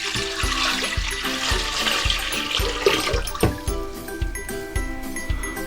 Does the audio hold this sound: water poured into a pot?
yes